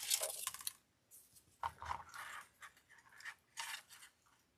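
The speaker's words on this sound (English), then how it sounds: "What did I drop? Oh, the other scissors." Metal scissors, dropped while a grapevine wreath is being made, land with a few faint, short clattering and scraping hits in a quiet room, with no speech.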